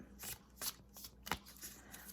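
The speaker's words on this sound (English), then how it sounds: "I imagine this shuffling is not the best." Cards from a new tarot deck being shuffled by hand, several short papery riffling bursts in an irregular rhythm, close and fairly quiet with no talking.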